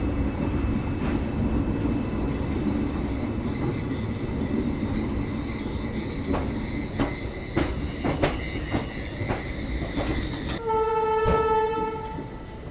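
A passenger train, with its locomotive just coupled, pulls out of Mangaluru Central station. A steady rumble of wagons runs throughout, punctuated by repeated sharp clacks of wheels over rail joints, and near the end a loud multi-tone horn sounds.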